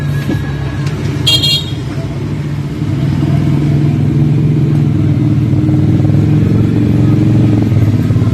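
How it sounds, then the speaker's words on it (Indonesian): Steady roar of motorcycle and car engines beside a busy Indonesian street food stall, loud and continuous, with a brief horn toot near the start. "karena kita ini di pinggir jalan ya. Ya ada suara-suara motor"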